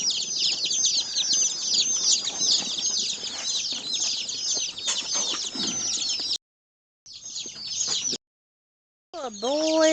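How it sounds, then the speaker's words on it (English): A brood of baby chicks, newly arrived egg-layer chicks on a homestead, peep continuously in a dense, high chorus of chirps up close, with a few brief silent gaps before the peeping resumes loudly. "look at those chicks"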